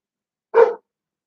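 A dog gives a single short, loud bark close by indoors, alone in the quiet.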